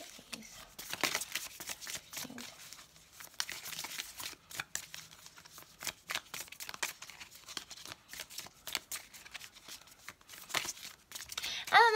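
Tarot cards being shuffled in a steady run of crisp, papery riffles and soft slaps, close and moderately loud, with faint bits of talk here and there.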